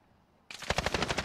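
Rapid bursts of video game gunfire in a first-person shooter, fired from up a hill. After a short quiet lead-in, a loud rattle of about a dozen evenly spaced shots follows close by with no talk over it.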